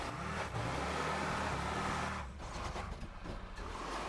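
A Vapid Retinue car in GTA Online driving off-road, its engine droning loud and steady, easing briefly, then revving again with rough rumbling.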